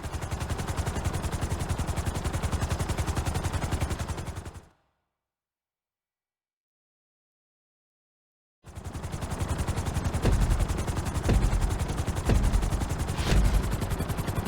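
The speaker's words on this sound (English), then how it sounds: "we're gonna put you in a helicopter for this lesson" Helicopter flying through a flight-school course in Grand Theft Auto V: a loud, steady rotor chop with dense engine roar that drops out completely for about four seconds midway, then resumes at full strength.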